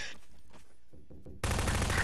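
Gunfire in the video game Garry's Mod: after a quieter stretch of scattered faint shots, a loud, dense burst of rapid automatic fire starts abruptly and continues to the end.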